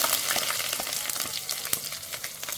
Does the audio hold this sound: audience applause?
no